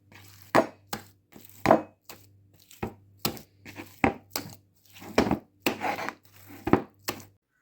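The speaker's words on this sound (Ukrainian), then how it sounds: "тепер ось так потрібно відбити." Dough for meat belyashi is slapped and beaten by hand in a bowl, a series of about fourteen sharp, close thuds in an uneven rhythm with quiet gaps between them.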